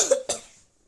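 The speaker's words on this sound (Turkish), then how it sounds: "Ya başkalarının üstüne öksürme" Two quick, close coughs in a row, sharp and breathy, then silence.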